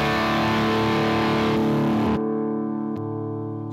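Electric guitar played through a Mosky SOL 918 or Getaria Cube Baby preamp pedal set for distortion, a thick sustained distorted chord that cuts off, then a second struck chord rings out and slowly decays, alone with no talk.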